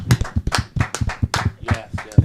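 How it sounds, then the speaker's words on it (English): Brief burst of clapping from a small audience at a community storytelling event honoring fathers and mentors, with uneven, close hand claps and a few voices mixed in. "Can y'all give yourselves a round of applause?"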